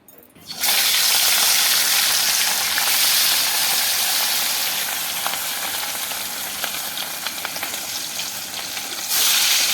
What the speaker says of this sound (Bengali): কড়াইতে তেল দিয়ে মাছগুলোকে ভেজে নিল